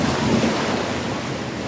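Surf breaking against rocky shoreline at Horseshoe Bay, Bermuda, a steady loud wash of churning water mixed with gusting wind noise across the microphone, no voices present.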